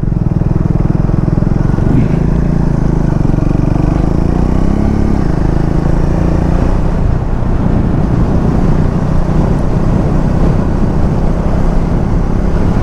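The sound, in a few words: car driving on a road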